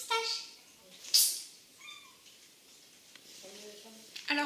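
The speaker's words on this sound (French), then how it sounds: "Je suis désolée si vous entendez mon chat miauler," A pet cat meowing indoors, a few clear drawn-out meows near the microphone, separated by quieter pauses.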